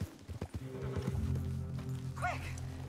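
A horse in the Red Dead Redemption 2 video game clip-clops along with hoofbeats, then gives a short whinny, all under a busy, moderately quiet game soundscape.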